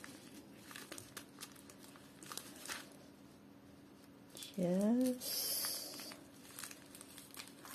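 Crinkly plastic rustles and crackles close by, with soft handling noises, brief speech, and a short burst of louder noise partway through.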